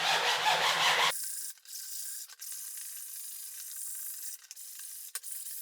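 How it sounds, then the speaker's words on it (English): Sandpaper roughing up a car A-pillar trim panel, rubbing briskly in a burst, followed by a quieter steady scratchy hiss with a few sharp ticks and knocks. "We're just going to use some sandpaper in order to rough everything up."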